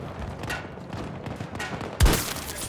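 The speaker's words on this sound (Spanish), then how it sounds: "Escuchan los tiros, ¿no?" Gunfire in the video game Battlefield 2042, a rapid, rattling run of shots over ongoing battle noise, ending in a sharp louder blast near the end.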